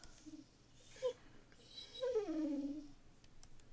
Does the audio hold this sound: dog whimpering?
yes